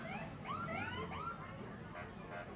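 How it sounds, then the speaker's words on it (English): Faint, distant sirens wail with rising and falling sweeping tones that overlap, heard far off over a low background hum. "So you're hearing a lot of sirens coming up."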